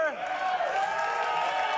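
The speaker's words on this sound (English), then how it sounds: "do not applaud that" Studio audience of a comedy talk show applauding and cheering, a broad, continuous wash of clapping and crowd noise with voices mixed in, steady and fairly loud.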